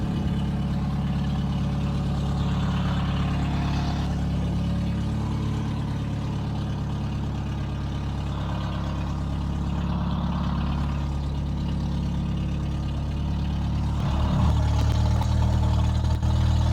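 A Pontiac Fiero engine idles with a loud exhaust, a steady low rumble that holds close and even for the whole stretch, with a slight swell near the end.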